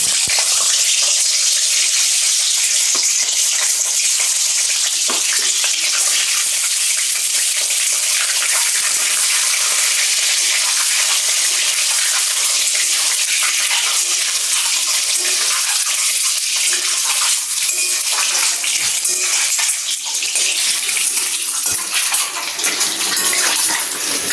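Duck eggs fry in the same oil used for the fried onions, a steady loud sizzle and crackle that holds without a break throughout.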